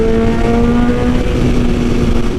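A BMW S1000RR sport motorcycle fitted with an Austin Racing exhaust, its engine running with a steady loud droning tone and slight rise in pitch, close and continuous without talk.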